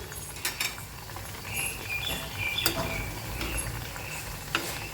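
Snacks frying in hot oil in a home kitchen give a steady, moderate sizzle, with a few sharp pops and clatters scattered through it and no talk.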